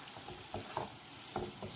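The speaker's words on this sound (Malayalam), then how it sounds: "അതിനായിട്ടൊരു 1/2 ഗ്ലാസ് വെള്ളം കൂടി നമുക്ക് ഒഴിച്ചു കൊടുക്കാം." A pan of Chinese potato masala with bajji chillies and coconut sizzles faintly as half a glass of water goes in, with soft scattered stirring taps over a steady low hiss.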